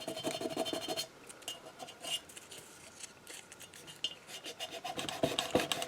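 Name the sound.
rough sanding painted mason jar with 100 grit sandpaper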